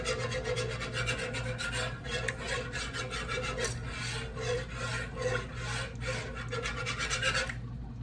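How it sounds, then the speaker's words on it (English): A whisk scraping steadily around a pan while veggie pasta cooks, with a continuous rapid rasping rhythm throughout, close and moderately loud. "Make sure you're using your whisk."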